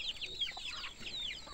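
A hen clucks softly on a farm in the Cuban countryside, making quick high chirping calls from a few metres away over a steady background hiss.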